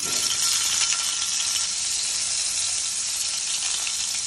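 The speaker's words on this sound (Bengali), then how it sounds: "সাসলিক ফ্যাসফ্যাস করতেছে" Shashlik skewers frying in hot oil, a loud, steady, close sizzle that continues without a break and is heard on its own.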